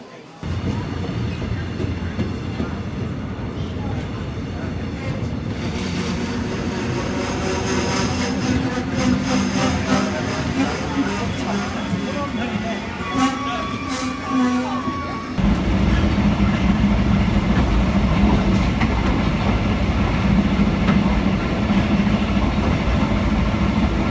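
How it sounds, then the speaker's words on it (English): Steady rumble of a moving train in Seoul with rattling carriage noise and a brief high squeal partway through, loud and continuous throughout. "We're about to go on a train for the first time."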